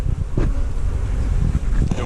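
Honey bees buzz around an open hive from a working colony, a dense, steady drone close by that holds for about two seconds with a few brief louder swells.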